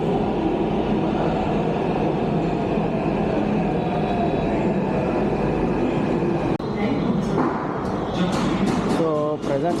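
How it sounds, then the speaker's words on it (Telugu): A metro passenger train at JNTU station in Hyderabad makes a loud, continuous rumble and roar, with squealing wheel tones and brake hiss rising near the end, and voices faintly mixed in. "ఇది వచ్చేసి మన ట్రైన్."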